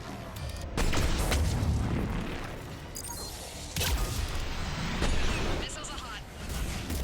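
Missiles launching and exploding in the video game Mass Effect 3: heavy booms and blasts, two big impacts a few seconds apart, with rumbling debris and background battle noise in between.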